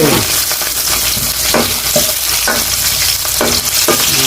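Chili and onion stir-fry in a hot pan with a loud, steady sizzle, while a utensil scrapes and stirs in repeated strokes. The sound is close and continuous, and nobody talks.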